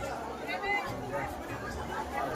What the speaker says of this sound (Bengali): আর প্ল্যাটফর্মে বিশাল ভিড় এখনো